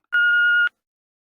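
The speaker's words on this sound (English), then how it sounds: "Speak after the tone." A single steady electronic voicemail beep, a clean sustained tone lasting about half a second, loud and alone, followed by silence.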